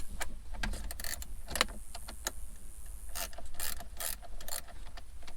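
A ratcheting wrench loosens a car battery bolt on a Buick Lucerne, giving quick bursts of close metallic ratchet clicks with short gaps between strokes and no talk.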